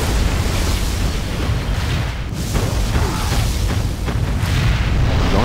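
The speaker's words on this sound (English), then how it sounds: "Releasing particle cannon." In the video game C&C Generals Zero Hour, a particle cannon strike detonates in a loud, sustained rumbling explosion. The deep roar rolls on for several seconds with shifting bursts and crackles.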